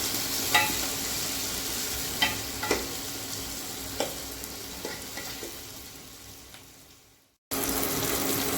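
Ingredients for a homemade Tamil fish curry, including coconut, sauté in a pan with a steady, close sizzle, punctuated by occasional sharp clicks of a spoon stirring, fading slightly before a brief break and resuming.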